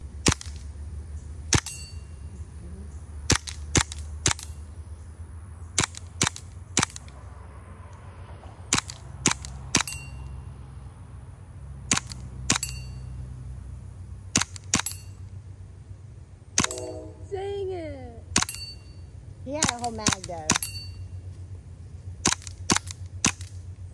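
Sharp, isolated airsoft shots from a Lancer Tactical RMR fired during an airsoft match, crisp and fairly close, spaced irregularly over a steady low background hum.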